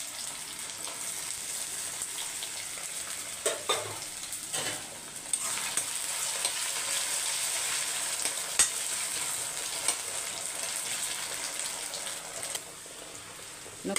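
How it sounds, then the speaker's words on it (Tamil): Small diced potatoes fry lightly in oil, a steady hiss of sizzling with a few soft knocks and stirs, moderately close and with no voices. "உருளைக்கிழங்க லைட்டாக பொரித்து எடுத்துக்கலாம்"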